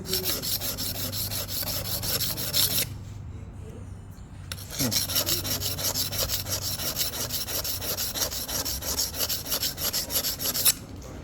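Steady rasping strokes of an auto glass BTB blade dragged against a sharpener, rough and close, pausing briefly midway before the grinding resumes; no talking.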